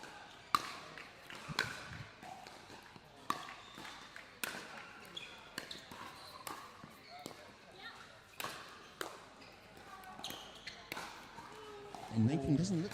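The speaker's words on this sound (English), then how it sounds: "go back to listening to pickleball" Pickleball paddles strike the ball in a steady rally during a 50+ mixed doubles tournament final. The crisp pops come at irregular intervals while commentators talk over the play.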